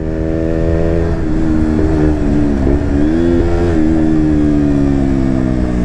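A 2020 KTM Duke 125 motorcycle accelerates with a loud, close, buzzing single-cylinder tone that climbs in pitch, dips briefly between gears and rises again.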